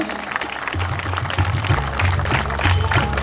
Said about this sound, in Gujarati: તાળીઓના જોરદાર ગડગડાટ ચાલુ રાખશો મહેરબાની કરીને